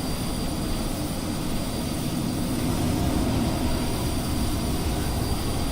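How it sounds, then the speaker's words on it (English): Small propeller airplane engine in a flight simulator game during an IFR around-the-world flight, a loud, steady droning hum that holds even throughout with no speech. "Yeah, this little plane's loud."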